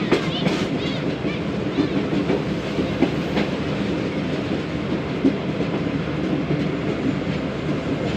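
The Tezgam express train rolls into Chichawatni station with continuous rumbling and rhythmic clickety-clack of wheels over rail joints, loud and close throughout.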